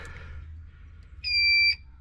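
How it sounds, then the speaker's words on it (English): A 12-volt circuit tester gives one loud, steady high-pitched electronic beep lasting about half a second as its probe touches a powered pin on a truck's trailer light plug, with a low background hum before and after. "It should beep and light up as we're testing each plug if we got power to it."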